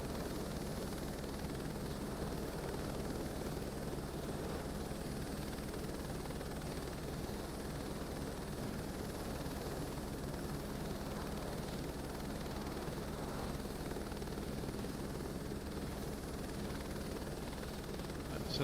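In Microsoft Flight Simulator 2024, a helicopter holds a hover, giving off a continuous, fairly quiet rotor and turbine drone with a steady low thrum that stays even and unbroken for the whole span, with no voices over it.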